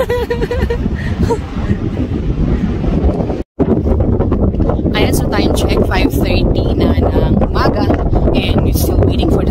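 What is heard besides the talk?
strong wind on a mountain summit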